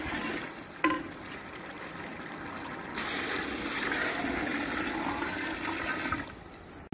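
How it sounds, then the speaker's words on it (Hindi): A brief clatter, then a rush of water pouring and hissing into a hot pot of fried spices for rice, steady for a few seconds before cutting off. "अब हम इसमें पानी डालेंगे।"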